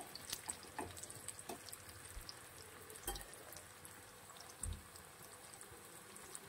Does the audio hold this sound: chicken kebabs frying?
yes